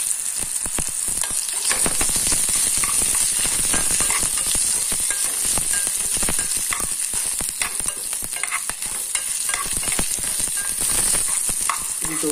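Coriander seeds and cumin fry in a pan, producing a dense, continuous close sizzle with rapid crackling pops and occasional stirring scrapes, loud and steady with no talking.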